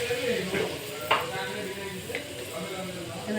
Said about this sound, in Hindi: अब सब मसाला के हल्का सा भूज ले हैं। भुजे पे खाली इनमें डाल दें हम टमाटर, कटल टमाटर